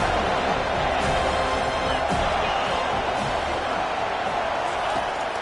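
A packed stadium crowd roars continuously in a loud, dense wash of noise that never lets up, with a few sharper bursts of cheering standing out.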